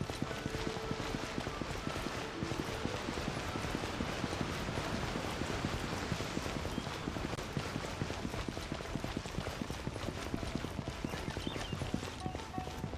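Horse hooves in a video game, a steady, quick clip-clop of trotting hoofbeats that runs continuously at moderate loudness over a soft background bed.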